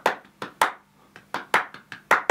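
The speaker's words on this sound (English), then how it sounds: "I want an acoustic clap because that will just sound better." Acoustic hand claps recorded for a pop song remake, seven sharp dry claps in an uneven rhythm, close and clear with no other sound.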